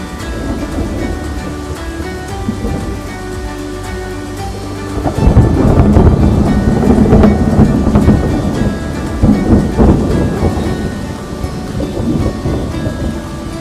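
Rain falling during a storm in the UAE: a steady broadband hiss that swells noticeably louder about halfway through, with deep rumbling that suggests thunder underneath and no voices.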